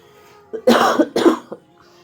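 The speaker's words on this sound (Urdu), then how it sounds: "کھانسی آ گئی تھی بہت زیادہ، باتیں کرتے کرتے گلا سوکھ گیا" Two strong coughs close by, one right after the other, with soft background hum before and after.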